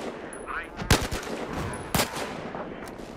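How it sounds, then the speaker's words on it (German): Gunfire in the multiplayer shooter Battlefield Hardline, with two sharp, loud shots about a second apart standing out over a steady bed of distant battle noise and faint chatter. "Ja, auf den schieße ich gerade"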